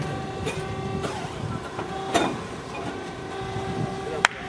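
A heel lasting machine works in a shoe factory with mechanical whirring and a steady tonal hum, broken by sharp clacks and hisses as it presses, while people talk nearby.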